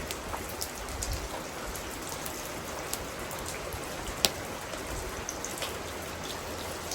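Steady rain falls and patters on a surface, with scattered drip sounds and an occasional sharper drop, continuous and fairly close.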